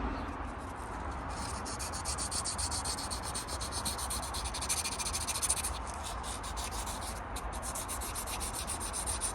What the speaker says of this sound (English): So now I'm gonna go ahead and sand this down a little bit to get the shape back.